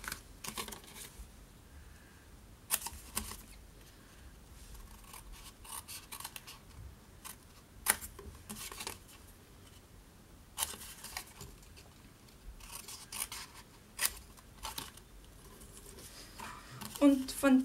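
Scissors snip through folded paper packaging in short bursts of crisp cuts, with quiet pauses between them and a few louder clips near the end.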